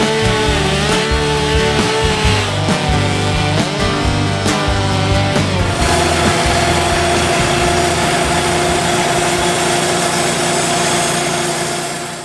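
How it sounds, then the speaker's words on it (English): A sawmill engine runs loud and steady at the Woodsman Show in Cherry Springs while slabs are sawn from logs, its pitch dipping and rising under load, then settling into a constant drone. "Today I'm at the Woodsman Show in Cherry Springs, and I'm sawing out some slabs."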